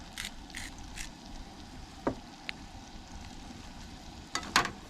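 Onion pieces frying in a pan at a campsite, a quiet steady sizzle running throughout, broken by a few soft scrapes and clicks of a utensil against the pan.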